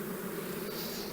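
Honey bees crawling over a hive frame while a starter colony is prepared, giving a steady, even droning hum throughout with no talk.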